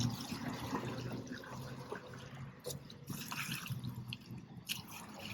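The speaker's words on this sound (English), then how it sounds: "So I have a bucket of water here, and I'm going to spray it" Water from a bucket is sprayed and pushed across outdoor travertine pavers, giving soft splashing and dripping with scattered trickles at low level and no speech.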